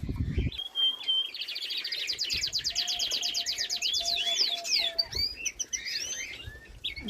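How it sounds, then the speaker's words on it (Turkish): Nightingales and canaries sing nearby in rapid, varied trills and whistles, with a lower cooing call running underneath partway through. "bülbülleri, kanaryaların sesini duyuyorsunuz."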